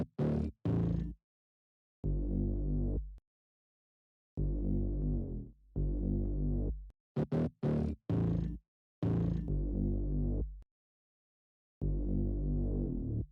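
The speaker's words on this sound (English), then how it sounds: "the whole bass line is sounding like this" Layered bass line built with a Smith Live bass one-shot and a second distorted bass plays in short, punchy deep notes separated by silences, with quick staccato hits between the sustained tones.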